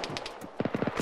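Gunfire in the video game Arma 3: a few scattered distant reports, then a rapid automatic burst of about six punchy shots in quick succession over the last half second, with no talk.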